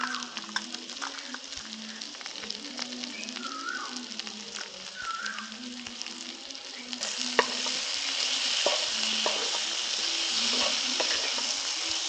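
Potol (pointed gourd) and potato curry frying and being stirred in a pan, with steady sizzling and repeated scraping strokes throughout, growing slightly louder in the second half.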